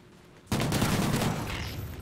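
Video game gunfire erupts after a quiet half second, a dense, loud burst of rapid shots aimed at the player that keeps rattling to the end.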